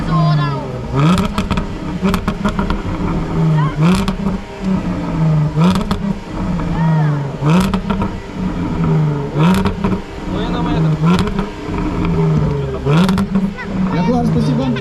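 A Jaguar's loud exhaust roars and revs repeatedly at a low-rider car gathering in Astana, sustained deep engine drone with rhythmic throttle blips every couple of seconds, close and loud under crowd chatter.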